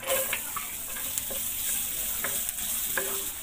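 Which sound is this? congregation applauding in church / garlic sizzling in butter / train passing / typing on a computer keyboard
garlic sizzling in butter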